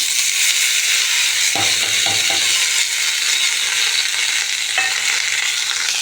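Cut beans frying with mustard seeds and curry leaves in a pan give a steady loud sizzle, with a few brief scraping stirs of a utensil partway through.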